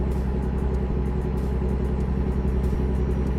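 A truck roars through an intersection in American Truck Simulator, a loud, steady engine and road drone filling the clip without pause and with no talk.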